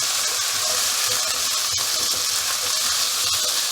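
Onion and green capsicum stir-fried over a high flame for chilli prawn, giving a steady, loud, continuous sizzle and hiss throughout with faint stirring clatter and no speech.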